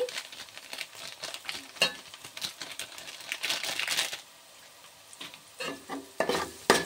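Spiced dry curry filling for sweet corn samosas frying in a pan, a dense crackling sizzle broken by scraping stir strokes, loud and close, swelling and easing in bursts with no talk.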